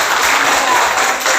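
A classroom of students gives group five a round of applause, a dense, loud burst of clapping that lasts throughout.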